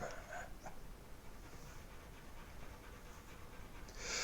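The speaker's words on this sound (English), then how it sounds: "I had a couple of dogs out running and I just let them in." A couple of tired dogs just back indoors from running pant quietly and steadily nearby, a soft rhythmic breathing with faint whimper-like bits, low in level and without talking.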